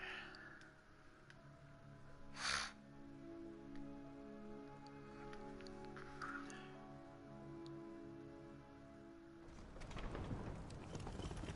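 Horse hooves clopping in Skyrim, quiet and rhythmic under rain-like ambience and steady tonal game music, with a sharp noise burst early on and a wash of broadband noise near the end; no speech.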